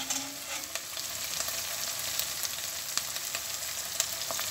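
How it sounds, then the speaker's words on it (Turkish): Onions and tomato paste fry in a pot as the base for Turkish red lentil soup, giving a steady close sizzle with light crackles and occasional stirring scrapes. "Soğanlar kavruldu. Salçayı ilave ettim."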